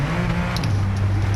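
Ford GT (2017) V6 engine in Gran Turismo 7, a steady low droning hum that holds and shifts pitch slightly midway, loud and continuous with a faint high whine on top.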